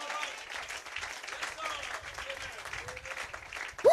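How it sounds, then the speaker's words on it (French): Applause and acclamation ring out in a church congregation, a fairly faint, steady patter of clapping mixed with voices and cheering throughout. "Est-ce qu'on peut donner une acclamation au Seigneur?"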